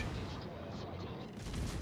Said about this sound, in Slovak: ona nás strieľa